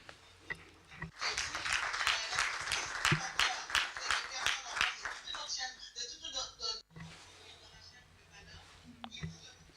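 An audience claps at a digital trade forum masterclass, a dense patter of many hands building quickly and then fading out, with faint voices around it.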